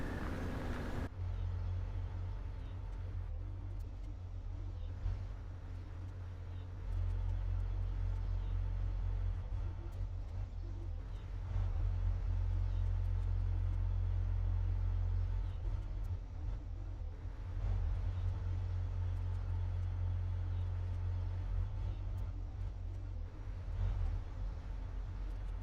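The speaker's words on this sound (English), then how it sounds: "That is plowing a field using 5 tractors" Five farm tractors plowing a field in Farming Simulator 17 give a steady low engine rumble that swells and dips slightly across the span, continuous and moderately loud, with no voices over it.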